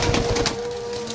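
A Sialkoti desi cross pigeon coos while being handled, a short low throaty call up close over a faint steady background hum, with no talking.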